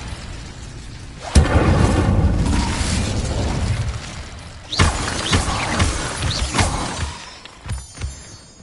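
Incendio fire spell cast in the Hogwarts Legacy video game: a sudden loud fiery burst swells into a sustained roaring crackle, then a second, weaker flare follows with scattered pops and sparkling fizzes as it fades.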